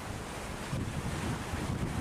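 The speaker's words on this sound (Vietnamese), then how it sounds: "trước mặt đây là chiếc ghe lưới bao đang nhảy sóng về cửa cảng luôn" Sea waves and rushing wind buffet a purse seine fishing boat riding the swell into Lagi port, Binh Thuan, a steady broadband wash with low surging swells, close and fairly loud, no talking.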